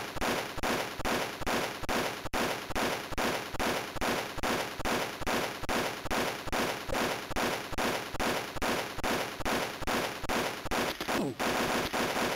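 Rapid auto rifle fire from the Game Boy Color game Army Men keeps up a steady, evenly pulsing chiptune rattle of bursts for about twelve seconds, loud and unbroken apart from a brief glitchy change near the end.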